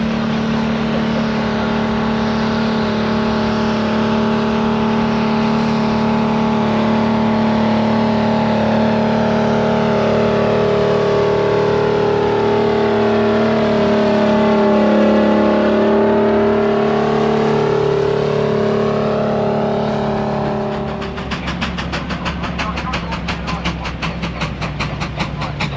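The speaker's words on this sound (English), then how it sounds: "Now coming up the hill as if it's pulling something heavy is the International." An International steam traction engine climbs a hill at a steam rally under heavy haulage load, with a loud, sustained labouring chug and rising mechanical tone that shifts near the end into a rapid rhythmic beat.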